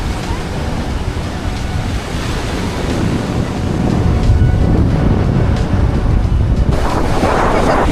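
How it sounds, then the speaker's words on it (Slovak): Big ocean waves roll onto a beach in Crete. There is a steady loud surf roar mixed with heavy wind buffeting the microphone, and it swells stronger partway through. "Trošku veľké vlny."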